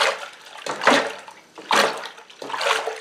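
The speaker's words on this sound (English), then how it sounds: "give her a good stir. Get some oxygen in that mash" Corn mash sloshing in a fermenting vessel as it is stirred vigorously before yeast is added, in three or four heavy liquid swirls close by.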